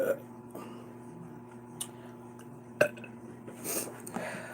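A person burps while eating spaghetti, with a couple of short, fairly soft eructations standing out above a quiet room background.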